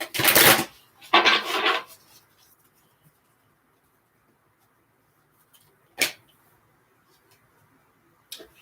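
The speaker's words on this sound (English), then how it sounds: "Let me shuffle these ones, because then I get this card here." Tarot cards being shuffled by hand in two brief close rustling bursts, then near silence broken by a couple of light taps and card flicks.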